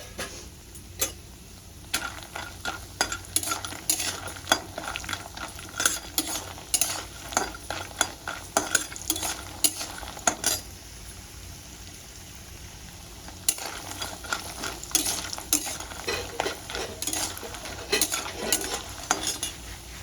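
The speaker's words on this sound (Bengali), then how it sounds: "এবার আমি বড়িগুলো দিয়ে লাল লাল করে ভেজে নেব" Lentil dal bori frying in hot oil in a kadai: a quiet, steady sizzle broken by bursts of spatula scraping and clinks against the metal pan, with a calmer stretch midway.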